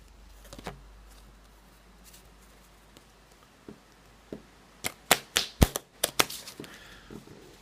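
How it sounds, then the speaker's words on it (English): Loose, unfolded raffle tickets are shuffled like playing cards, first a few scattered paper flicks, then a fast run of sharp riffling snaps close to the microphone, with no talking. "I'm gonna shuffle them like playing cards"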